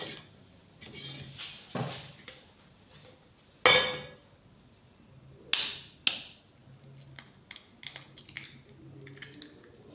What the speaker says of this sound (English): I'll break one egg.